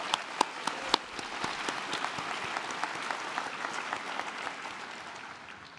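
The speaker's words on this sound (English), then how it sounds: "let's give him a round of applause." A crowd applauds steadily for several seconds, dense clapping with a few sharp claps standing out early, fading slightly toward the end.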